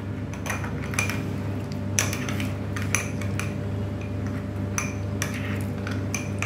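A spoon clinks and scrapes in a bowl, stirring thickened milk for mango mishti doi over a steady low hum, with taps coming irregularly and up close and no voices.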